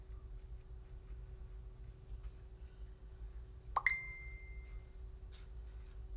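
A single bright chiming ding from a phone receiving a Facebook message, ringing out briefly over a quiet room with a low steady hum.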